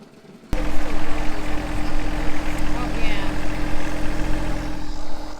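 A Baumalight Stump Blaster mounted on a compact tractor grinds a tree stump: after a quiet start the engine and grinding wheel kick in, holding a loud, constant droning roar with rough churning texture and a voice talking over it.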